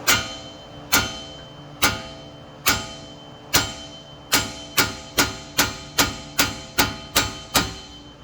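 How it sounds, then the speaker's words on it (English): Sharp metallic hammer blows ring out on a Dodge Charger R/T lower ball joint, a few spaced strikes at first, then a quicker steady run of about a dozen even, resonant bangs. "I'm going to grab my hammer and I'm going to bang it right here on the side"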